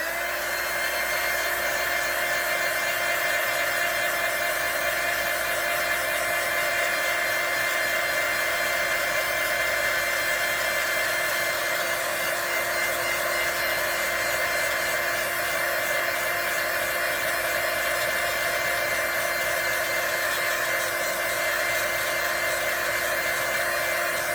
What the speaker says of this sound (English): Okay, and I'm going to dry this.